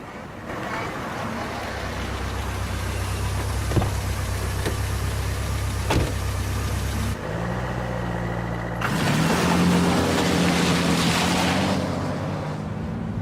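A car drives in Tomb Raider: The Angel of Darkness (2003), its steady low engine drone running continuously and shifting in tone partway through, with a couple of faint knocks along the way.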